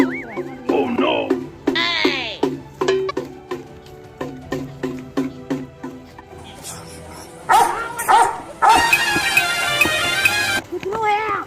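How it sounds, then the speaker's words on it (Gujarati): A dog barks repeatedly in sharp, close, evenly spaced bursts, mixed with a few higher whining yips, then breaks into a denser, louder run of barking near the end. "કૂતરું હે"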